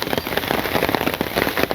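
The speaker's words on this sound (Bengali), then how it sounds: "বৃষ্টি, প্রচুর বৃষ্টি" Heavy rain pours down steadily in a village, a dense, close hiss of drops hitting surfaces with constant spatter and no voices.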